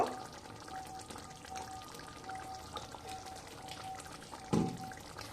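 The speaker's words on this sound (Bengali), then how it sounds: "রোজ ওয়াটার আর দেব কেওড়া জল অল্প" A few drops of rose water and a little kewra water trickle into a pointed gourd rezala curry, a soft, brief pouring sound over a faint simmer, closing with one short clink, quiet and without talk.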